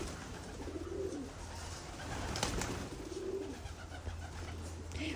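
Pigeons coo in soft repeated calls amid a steady outdoor background hum while birds, crows among them, are fed; a sharp brief noise sounds midway, with no talking.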